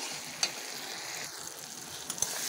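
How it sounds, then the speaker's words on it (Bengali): Ground cumin and mustard paste sauté in a pan for a rohu fish and eggplant curry, making a soft steady sizzle with a couple of faint clicks of a spatula and no talking. "এটা ভালো করে কষানো হয়ে গেছে।"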